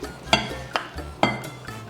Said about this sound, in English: So we are going to be adding in the flax mixture.